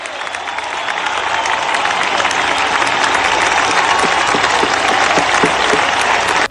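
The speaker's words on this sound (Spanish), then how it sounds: "fue respondida con aplausos y ovaciones de Si se pudo, por parte de los asistentes" An audience at a peace-agreement signing ceremony breaks into loud, sustained applause and ovation, dense clapping from a large crowd continuing steadily throughout.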